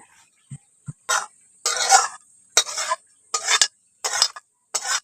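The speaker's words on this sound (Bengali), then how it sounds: "সরষের তেলটা দিয়ে ভালো করে একটু মিশিয়ে নিচ্ছি" A spoon scrapes and stirs through an elephant foot yam and tamarind dish mixed with mustard oil in a pot, six or seven separate rasping strokes in an even rhythm, close, with quiet gaps between.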